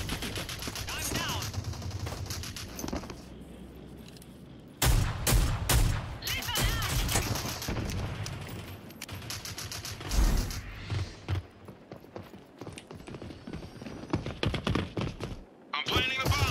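Revolver gunfire in the shooter game Rogue Company: sharp, loud shots crack out in bursts, some single and some rapid, against a busy game soundscape with a voice talking in between.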